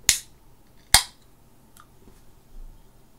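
A shaken can of NOCCO BCAA pear energy drink being opened, with two sharp, close pops less than a second apart, then a faint fizz and near silence.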